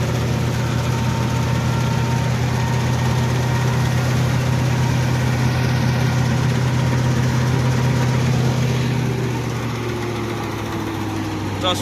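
A Massey Ferguson 9500 tractor engine drones steadily nearby during farm work, a low continuous rumble that eases slightly toward the end.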